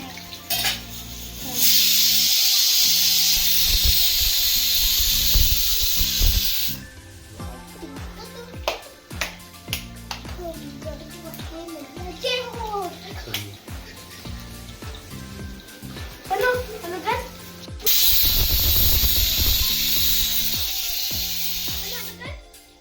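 Marinated chicken for chicken 65 frying in a hot pan, a loud steady sizzle and hiss that cuts in and out, with utensil clinks and stirring scrapes between the sizzling stretches.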